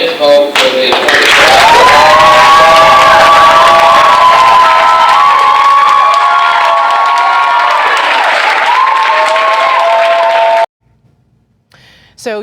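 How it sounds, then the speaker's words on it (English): Loud cheering, whooping and clapping from a crowd at a school board meeting after a unanimous vote to appoint a superintendent, a dense sustained roar of shouts and applause that cuts off abruptly near the end. "you're seeing all of the applause there"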